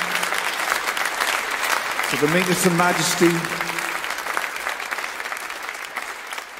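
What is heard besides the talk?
church congregation applause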